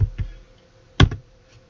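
A few quick clicks on a computer keyboard while a value is typed into an AutoCAD command line, two soft taps followed by a sharper pair, close and alone in a quiet room.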